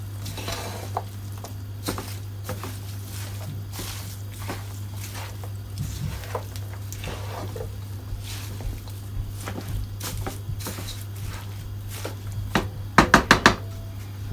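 Calaloo and saltfish seasoned with all-purpose seasoning and black pepper being stirred in a pot, with soft repeated scraping and gentle sizzling over a steady low hum, ending in a quick burst of louder clanks near the close.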